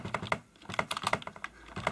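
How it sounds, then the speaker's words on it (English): Typing on a USB keyboard connected to a Samsung Galaxy S4, with quick, close key clicks in short irregular bursts and a brief pause partway through. "I'm using the keyboard to navigate on the apps page"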